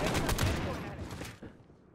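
Gunfire in Modern Warfare, a loud rapid volley of shots up front that thins out and fades into quieter scattered pops toward the end.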